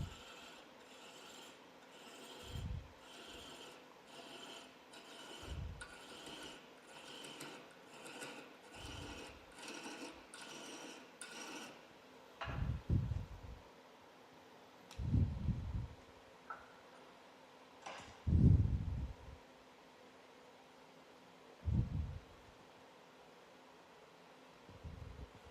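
Hand threading of a metal rod with a die, worked from the chamfer: a run of evenly spaced rasping strokes, followed by heavier, intermittent scraping knocks as the cut tightens. No voices.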